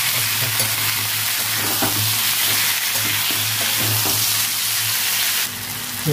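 Potatoes frying in a pan with chopped onion, tomato, ginger and chili give a loud, continuous sizzle, with occasional stirring and scraping as the mixture is turned.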